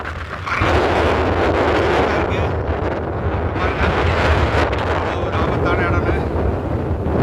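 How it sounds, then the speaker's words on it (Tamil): Strong wind roars and buffets the microphone on a dangerous mountain, a loud, continuous, low rumbling gust that swells slightly and never lets up. "காற்று பயங்கரமாக அடிச்சுட்டு இருக்கு"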